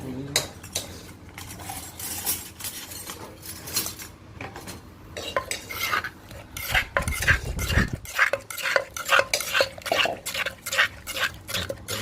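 A spoon stirs ingredients for an Isan dish with fresh lime, scraping and clinking against the bowl or pot in quick, uneven strokes, close and clear, with a brief low thump midway.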